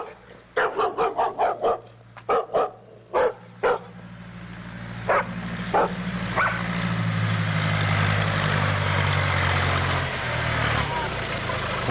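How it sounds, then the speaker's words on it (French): A small dog in a village barks in a quick series of sharp, high yaps, close and loud, then pauses and lets out a few more barks as a vehicle engine swells up and idles underneath. "Un petit chien, il nous aboie dessus."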